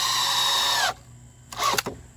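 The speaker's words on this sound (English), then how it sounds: "So easy to pre-drill everything." A power drill whines loudly as it pre-drills holes for a barrel or equipment enclosure. One sustained run stops abruptly, then after a short pause come two brief bursts of spinning.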